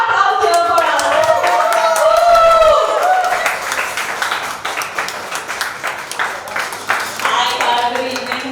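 A burst of applause and clapping from an audience at a song launch event, rising and then fading, with a voice speaking over the start.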